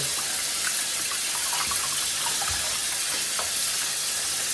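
Tap water runs steadily in a bathroom while something is rinsed, a continuous hissing splash with a few faint clinks and sloshes, no talking.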